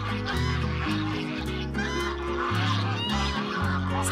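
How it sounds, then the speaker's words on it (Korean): A flock of geese honks loudly and continuously at Daecheong Lake, with overlapping calls and a few clucking notes, close by. "이럴 때면 거위들은 유난히 요란을 떨며 반깁니다."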